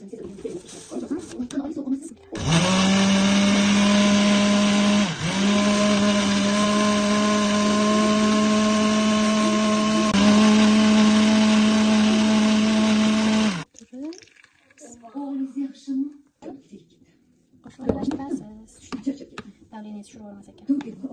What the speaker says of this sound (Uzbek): Yana blender qilish kerak